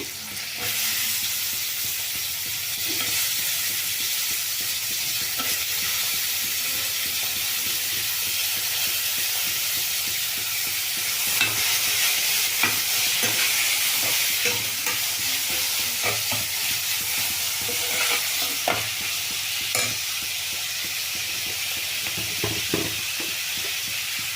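Chopped onions and radish fry in a pan with a steady loud sizzle and hiss, punctuated by frequent scraping and tapping of a stirring spoon, close up and without any talking.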